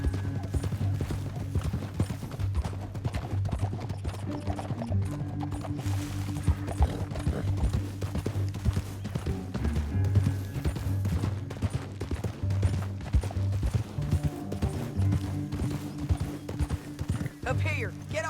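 Horses gallop in Red Dead Redemption 2, steady clip-clopping hooves over a low rumbling game soundtrack, with a voice speaking over the ride.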